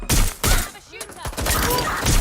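Gunfire in Watch Dogs: Legion during a fight: a few sharp, loud bursts of shots with short gaps between them, mixed with scuffling and thuds.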